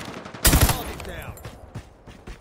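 Gunfire in a ranked Call of Duty multiplayer match striking the player, a sudden loud burst of shots followed by fading impacts and game sounds.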